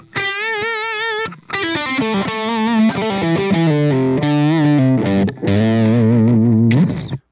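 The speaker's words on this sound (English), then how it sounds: "The minor pentatonic scale is an easy scale with a scary name." Distorted electric guitar plays a minor pentatonic scale with a rock lead tone, running through a quick series of sustained single notes. It is loud and steady, with a couple of brief gaps and no talking.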